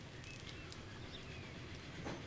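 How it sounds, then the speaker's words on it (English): A rusty, tatty passenger train in Transport Fever 2 rolls past faintly and steadily, a low rumbling rail drone with light high squeals and a brief swell near the end. "This will be the passenger train that goes out to Raccoon City."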